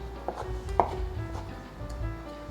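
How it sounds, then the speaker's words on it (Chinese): A knife cuts soaked shiitake mushrooms into strips on a board with a few soft, uneven taps, close by and quiet, over a faint background hum. "把香菇切条"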